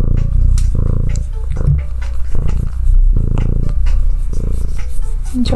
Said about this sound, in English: see if they can hear it purring.